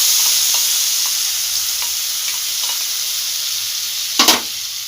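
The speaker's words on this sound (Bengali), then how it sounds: "দিয়ে মশলাটা ভালোভাবে কষিয়ে নিতে হবে" A spice paste of turmeric, tomato, green chili, cashew and ginger, with kasuri methi, fries in a pan for butter mushroom. It gives a steady bright sizzle with soft stirring scrapes and a sharp utensil clatter near the end.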